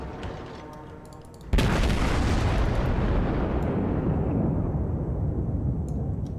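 Naval guns fire in World of Warships, one sudden loud boom that rolls into a long sustained roar and rumble, with a faint game backdrop before it.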